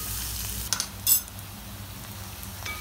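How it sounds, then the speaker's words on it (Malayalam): Onions and shallots sautéing in coconut oil, a faint, steady sizzle with a couple of brief utensil clinks near the start. "നമുക്ക് സവാള ഇട്ട് കൊടുക്കാം. അതിൻ്റെ കൂടെ തന്നെ നമുക്ക് ചെറിയുള്ളി ഇട്ട് കൊടുക്കാം. ഇനി ഇതൊന്ന് വഴറ്റിയെടുക്കാം."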